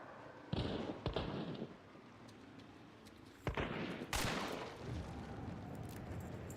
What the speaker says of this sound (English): So that makes a bunch of gunshot sounds